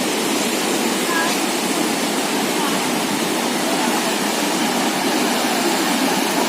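Water rushing between rocks at Adyanpara waterfall in the Nilambur forest, a loud, steady, close broadband roar that stays unbroken throughout.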